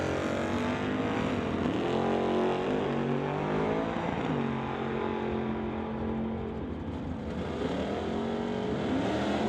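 Drag racing at the NHRA Summit ET finals with a 1966 Bel Air against a 1931 Ford Model A carrying a 414 small-block Chevy: loud, continuous engine roar with rising and falling revs throughout, heard without speech.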